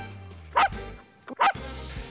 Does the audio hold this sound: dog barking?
yes